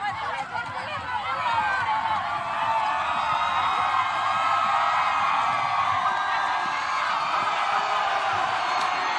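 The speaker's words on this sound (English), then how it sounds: "the crowds are cheering up for Papua New Guinea" A large stadium crowd at a Papua New Guinea versus Fiji football final cheers for Papua New Guinea, a steady broad roar of voices and whoops from the stands lasting throughout, with commentary over it.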